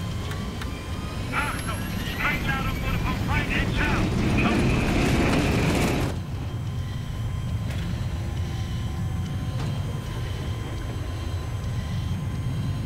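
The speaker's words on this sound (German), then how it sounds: "Jetzt bin ich im Jet." A jet aircraft in the video game Battlefield 3 roars as a broad, loud engine wash that swells and then drops in level midway, with a thin whine above it and gameplay noise mixed in.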